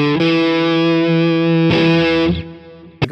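Heavily distorted electric guitar riff on the neck pickup in split-coil mode through a Neural DSP Archetype Tom Morello amp sim, loud sustained chords that cut off, return, then trail away into a short final hit.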